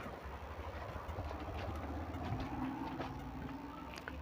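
A Powertrac Euro 45 Plus tractor runs hitched to a trolley, giving a steady low engine drone that holds evenly and close throughout without pauses.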